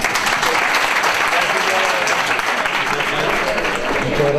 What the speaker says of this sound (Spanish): voy a dar un aplauso a Tomás durante todo este tiempo